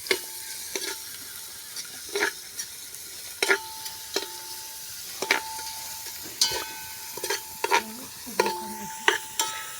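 Onions fry in a pan for Maggi noodles while being stirred, a steady sizzle under repeated sharp metallic scrapes and clinks of the spoon against the pan, close by, no talking.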